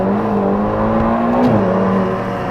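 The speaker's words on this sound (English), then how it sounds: "The throttle response gets much sharper, you can hear that now." Ferrari Portofino engine in sport mode, a loud close rev that climbs, dips briefly and then rises again, with a smooth steady drone and no talk.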